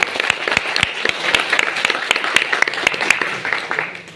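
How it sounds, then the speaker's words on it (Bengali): Audience members at a wellness company speech in Malda clap for themselves, a sustained crowd applause with scattered sharp individual claps, fairly close and steady throughout. "আর তার জন্য আমি চাইছি যে আপনারা প্রত্যেকে একবার নিজেদের জন্য হাততালি দিন"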